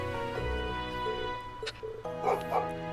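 Dogs in the video game Trails Into Reverie, a few yipping barks and whimpers over background game music, fairly close and brief.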